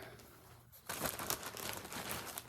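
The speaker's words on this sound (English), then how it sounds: "right now it's just in a plastic bag" A plastic bag holding DMC embroidery floss crinkles and rustles close up, quiet at first, then a louder, sustained crumpling that lasts to the end.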